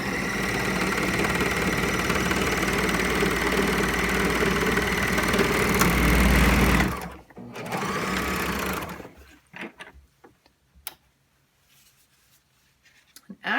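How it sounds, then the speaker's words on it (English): A serger sews the edge of denim jeans in a loud, fast, steady mechanical whir for about seven seconds. A brief second burst follows, then fabric handling and quiet clicks after it stops. "we're going to serge this edge"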